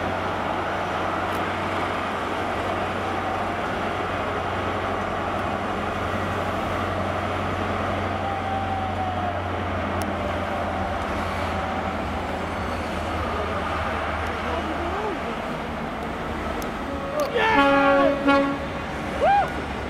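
A GWR HST train with its power car running, heard from on board on the run toward London Paddington via Severn Tunnel Junction: a steady low rumble of engine and wheels throughout, with a short horn toot near the end.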